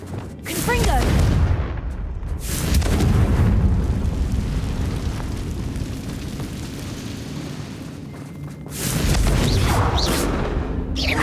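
A Confringo blasting spell goes off in Hogwarts Legacy: a loud, roaring explosion with a deep rumble that swells, lingers for several seconds, then tails off before a second heavy blast bursts in near the end.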